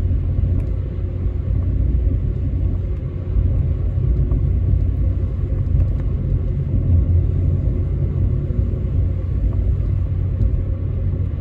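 A car coasting downhill with no throttle on the mountain road from Cloudcroft to Alamogordo, New Mexico, a steady in-cabin road rumble and wind drone with no engine surge, and nobody speaking.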